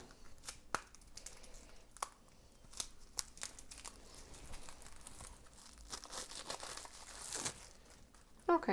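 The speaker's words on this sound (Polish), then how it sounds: "ściągam folię, z czym mam zawsze problem" Plastic foil wrap peeled off a new Ethereal Vision tarot deck: close, intermittent crinkling and tearing crackles with sharp bursts, growing busier near the end.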